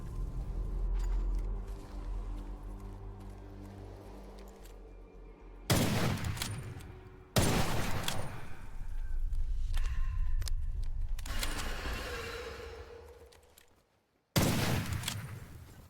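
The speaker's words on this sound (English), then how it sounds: "this sniper rifle is not as good as I initially thought" Sniper rifle shots ring out in the video game Witchfire, a few loud, abrupt blasts with sharp onsets spaced several seconds apart, each trailing off between quieter stretches of game ambience.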